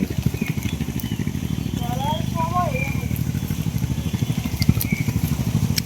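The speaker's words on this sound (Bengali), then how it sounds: "বালুর ট্রলার যাইতেছে" A sand-carrying trawler boat's engine chugs in a steady, rapid low throb as it passes, with voices talking over it throughout.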